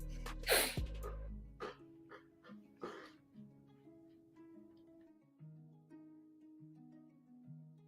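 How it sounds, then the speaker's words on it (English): A single sharp sneeze from a presenter during an online design tutorial session, a brief burst near the start followed by quieter breathing and faint background sounds. "I need to sneeze"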